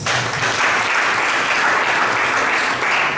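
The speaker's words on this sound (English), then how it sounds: "She really needs a very big round of applause." A hearty round of applause from a crowd, loud and sustained clapping for the full few seconds.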